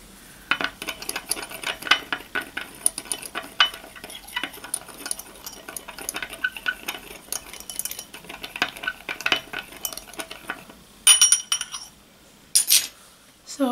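A utensil clinks and scrapes in a container as ingredients are stirred together, in quick, irregular taps. Sharper, louder clatters come near the end.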